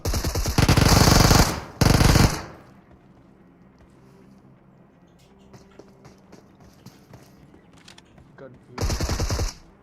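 Uzi submachine gun fire in a battle royale video game: two loud rapid automatic bursts at the start, then a quieter stretch with faint game sounds and distant shots, and a final loud burst near the end.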